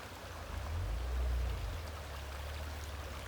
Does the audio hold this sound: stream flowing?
yes